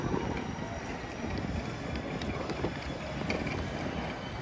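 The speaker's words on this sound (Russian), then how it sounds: "Ветер, достаточно сильный ветер поднялся здесь" Steady warm wind gusting and buffeting outdoors at Global Village, Dubai, a continuous rushing roar with faint flutters, no voices.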